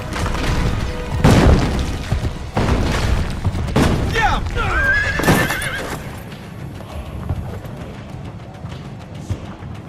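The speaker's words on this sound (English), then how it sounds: "Faster to travel by horse." A horse in Assassin's Creed: Brotherhood neighs loudly and gallops with clip-clopping hooves, joined by a few heavy booms and crashes before the sound fades to quieter ambience.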